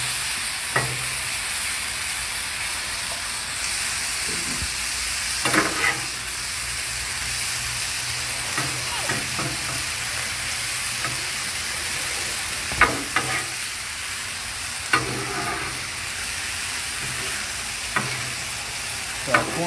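Sirloin steak and bacon sizzle steadily on a hot Blackstone flat-top griddle, a continuous close frying hiss broken by occasional sharp crackles and spatters, with no talking.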